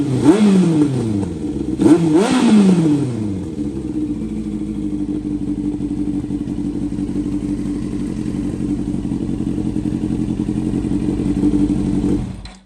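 A Yamaha R1 sportbike fitted with a new aftermarket muffler and link pipe blips its throttle twice in sharp rising revs, then settles into a steady, loud, throaty idle close by with no talk.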